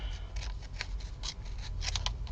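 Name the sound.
scissors cutting out a picture for a ring-pull charm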